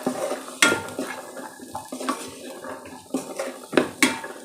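Green peas and fried onion are mixed in a pan for a karanji filling, with intermittent clinks and scrapes of a spoon against metal and soft stirring between them.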